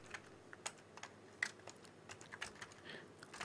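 Quiet, scattered keystrokes on a computer keyboard while typing in a Linux terminal, irregular clicks tapping at a relaxed pace with no voices.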